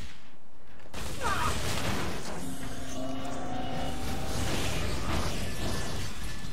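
Sustained machine gun fire from the Metal Arms: Glitch in the System shooter, a steady rattling burst that starts abruptly after a brief quiet and carries on amid mechanical game noise.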